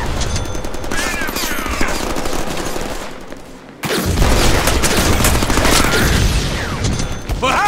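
Heavy gun in the Deadpool video game firing sustained automatic bursts, loud and close, broken by a brief lull before a second, even denser barrage of rapid shots.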